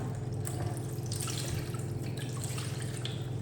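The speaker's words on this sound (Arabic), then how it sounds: "ونضيف عليها الماء" Water is poured onto a stuffed chicken before roasting, a close, steady splashing trickle with faint drips, heard on its own without talk.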